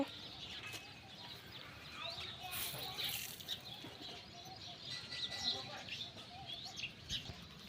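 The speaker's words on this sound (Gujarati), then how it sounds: "તો કબૂતરા બધી બાજુ ઉડે છે" Pigeons on a rooftop, where grain has been scattered for them, flutter and take off with faint wing flaps, soft coos and chirps, while distant voices murmur quietly in the background.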